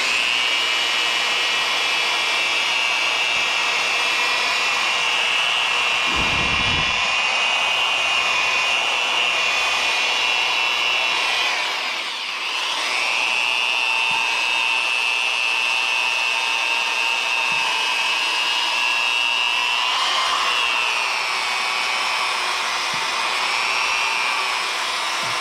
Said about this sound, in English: now I can follow up with my abrasive wheel